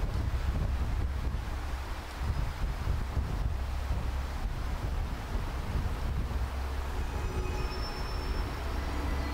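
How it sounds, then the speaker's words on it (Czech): Strong wind blows steadily outdoors, a deep continuous roar buffeting the microphone for the whole stretch with no one speaking. "že fouká hrozně silný vítr"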